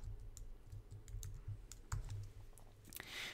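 Quiet typing on a computer keyboard while writing code: a quick, uneven run of soft key clicks, close but faint over low background hum.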